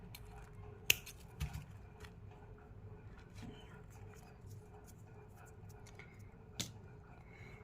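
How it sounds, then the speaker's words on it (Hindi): Scissors snip crochet thread while making a crocheted choli for a Laddu Gopal figure, with one sharp close snip followed by a few softer, fainter cuts and handling rustles in a quiet room. "तो यहाँ पे एक चेन बनाएंगे और इस वाले थ्रेड को काट देंगे।"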